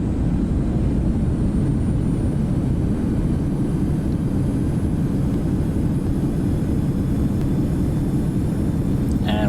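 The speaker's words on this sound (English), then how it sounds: "Go ahead and just activate our reversers here." Thrust reversers on a CRJ 1000 airliner in a flight simulator game, heard as a steady, loud, broadband engine roar with a low rumbling texture, holding level throughout with no talking.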